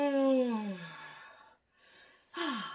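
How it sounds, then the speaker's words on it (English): Two drawn-out, breathy yawning sounds with a voiced, falling tone, separated by a brief pause; the second one starts strongly and fades, made as a singing warm-up exercise. "And a lovely broad yawn."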